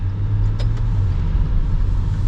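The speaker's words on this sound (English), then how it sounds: "Yeah, I'm kind of short shifting right now. It's fun to press these paddles." A 2021 Maserati Levante GranLusso SUV cruising with the driver short shifting through the paddle shifters, giving a steady, low, loud engine and road drone heard from inside the cabin, with no talking.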